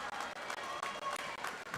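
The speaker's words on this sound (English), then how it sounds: "with some applause coming her way" Applause for a swimmer finishing in her lane at a varsity high school swim meet, a brief burst of steady clapping from the crowd in an echoing pool hall.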